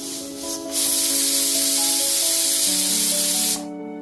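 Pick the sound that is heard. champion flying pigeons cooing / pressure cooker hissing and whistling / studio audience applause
pressure cooker hissing and whistling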